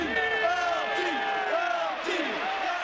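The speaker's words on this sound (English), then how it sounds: "a Meadowlands chant exalting New York's greatest football hero" Stadium crowd at the Meadowlands chanting for New York Giants football star Lawrence Taylor, a loud, rhythmic mass of voices with swelling repeated calls rising over continuous roar.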